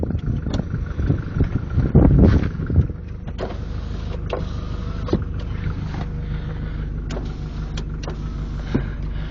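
A Mercedes 220D's electric windows whir as they run, with a louder mechanical burst early on, then a steady low hum and occasional faint clicks.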